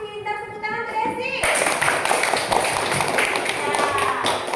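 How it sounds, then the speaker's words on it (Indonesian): Students in a classroom break into a burst of quick, close clapping that starts abruptly and keeps up steadily, following a teacher's voice. "Bagus, pintar, tepuk tangan untuk Desi."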